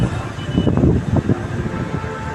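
Metro train in Ho Chi Minh City rumbling past, a loud, steady low roar with brief surges, heard alone without talk.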